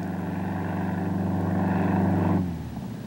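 An aerobatic propeller aircraft sets up for a spin at a world aerobatic championship, its steady droning engine rising slightly in pitch, then cutting back sharply to a quieter idle near the end.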